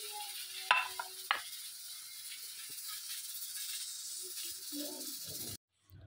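Potato, spinach and onion pakoras fry in hot oil with a soft, constant sizzle and hiss. A couple of sharp clinks cut in early, there are faint scraping sounds later, and the sound cuts off abruptly near the end.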